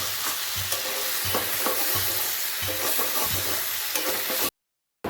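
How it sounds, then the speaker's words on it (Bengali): Vegetables fry with cumin powder, coriander powder and a little sugar in a pan, a loud continuous sizzle with rhythmic stirring scrapes close up, cutting off abruptly into silence near the end. "সবজিটাকে ভালো মতন ভাজা ভাজা করে"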